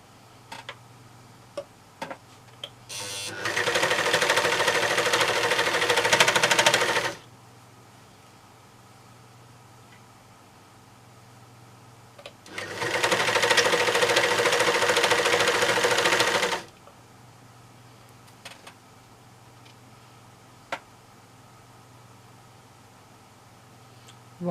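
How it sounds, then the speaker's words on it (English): A serger overlocker sews fabric edges in two loud, fast whirring runs of several seconds each, separated by a quiet pause with faint ticks and handling noises. "if you're sewing them up using your overlocker"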